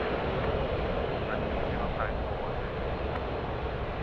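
An Air New Zealand Boeing 777-300 approaches runway 16 right at Sydney Airport, its engines making a steady, fairly distant roar that holds even for several seconds.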